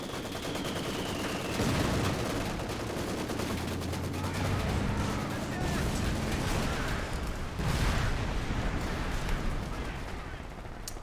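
Machine gun fire from a Company of Heroes 2 battle, a dense, continuous rattle of gunfire with booming impacts layered over the game's ambient noise and some voice chatter.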